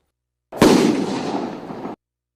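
A single loud firecracker bang with a sharp crack, then a crackling, sizzling burst that fades over about a second and a half.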